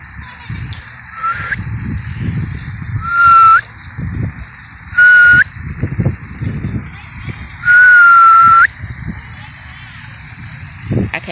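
Several short, thin whistles, wavering and tentative, repeated at irregular intervals over background voices and outdoor noise.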